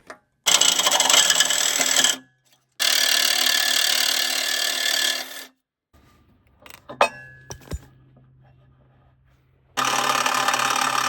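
Saw blade cutting a bolt right against the threads at a sawmill, loud harsh rasping strokes in three long bursts separated by quiet gaps with a few metallic clinks.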